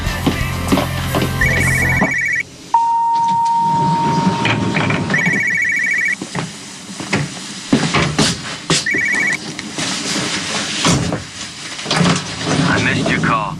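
A telephone rings in repeated trilling bursts, three rings spaced a few seconds apart, amid a busy mix of dialogue, music and background noise.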